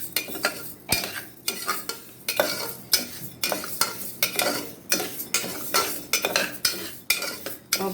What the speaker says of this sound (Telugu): పప్పు ఈ విధంగా వేయించుకోవాలి.